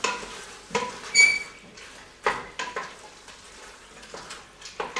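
Venison liver pâté mixture with melting butter being stirred in a pan, with soft sizzling and several scraping, clattering strokes of a spoon against the pan, close and fairly quiet, with no talk.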